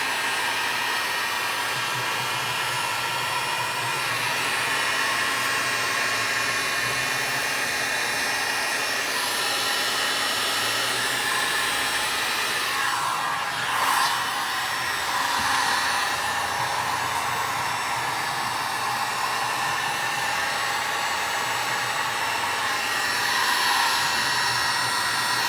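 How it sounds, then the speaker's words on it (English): A heat gun blowing hot air over the wooden stock of an old German G-98 Mauser rifle, a constant close roaring whoosh like a hair dryer that holds steady throughout, with a brief swell midway and no talking. "we can just use the heat gun to get it to soak in a little bit better"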